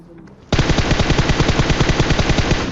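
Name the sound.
gunfire in video game PUBG Mobile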